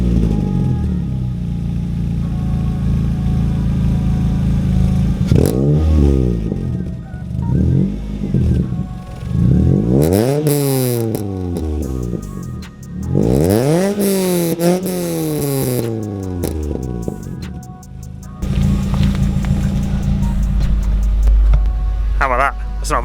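A modified Ford Fiesta ST Mk6 exhaust barks through a series of sharp revs, rising and falling in loud bursts between idle, ending with a deep low rumble.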